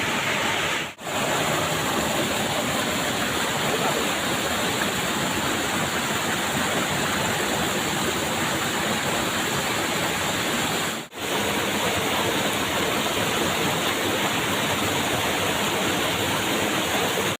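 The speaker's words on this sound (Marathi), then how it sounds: "हा बघा मित्रांनो कसला पाणी वाहता भारी एकदम धबधब्यासारख्या" A stream rushing over rocks like a small waterfall: a loud, continuous, close-up roar of water that fills the whole stretch without pause and without voices.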